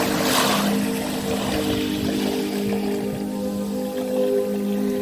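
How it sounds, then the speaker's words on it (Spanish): Ocean waves wash in a steady, soft broadband hiss with a gentle swell near the start, under a faint sustained tonal hum, with no voices. "el sonido de las olas"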